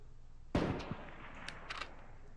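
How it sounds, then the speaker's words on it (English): A single sharp gunshot in the survival game H1Z1, loud and close, with a crack followed by a short ringing tail and a few faint distant follow-up pops. "He's shooting at me."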